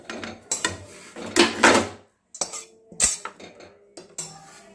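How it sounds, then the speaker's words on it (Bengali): Spiced cauliflower samosa filling is tipped out of a metal pan to cool, with bursts of clattering and scraping from a spoon against the cookware and short pauses between them. "পুরটাকে ঢেলে দিচ্ছি ঢেলে ঠান্ডা করে নেব"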